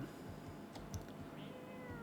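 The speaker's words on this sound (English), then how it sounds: "Pet the cat." A house cat gives a few soft meows close by over a quiet, steady background, with no talking.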